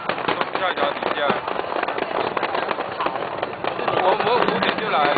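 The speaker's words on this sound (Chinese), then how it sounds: "好，在看烟火，" A steady barrage of National Day fireworks in 2010 crackles and bangs overhead, swelling louder toward the end, with spectators talking throughout under a bridge.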